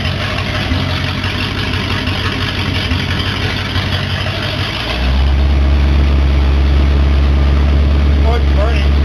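A 1969 Ford Torino with a 302 V8 idles loud and steady with a manifold leak, its low rumble thickening partway through as the engine note deepens and settles into a heavier, constant drone.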